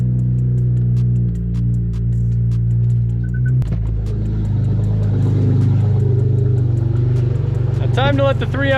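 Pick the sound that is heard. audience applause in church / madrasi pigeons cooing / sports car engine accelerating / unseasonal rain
sports car engine accelerating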